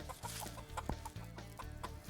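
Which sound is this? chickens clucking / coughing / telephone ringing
chickens clucking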